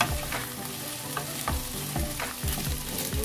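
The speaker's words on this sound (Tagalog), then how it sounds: "Ating hahaluin." Pasta with broccoli and smoked pork belly sizzles steadily in a pan while a utensil stirs and scrapes through it, making repeated soft knocks against the pan bottom, with no talking.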